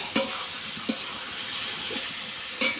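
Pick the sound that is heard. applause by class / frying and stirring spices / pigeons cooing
frying and stirring spices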